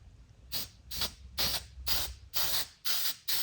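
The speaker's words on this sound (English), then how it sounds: "Okay, the spray." Six short bursts of aerosol spray hiss onto Jeep Grand Cherokee parts in an even rhythm, each about a third of a second long and separated by brief silent pauses, close and clear.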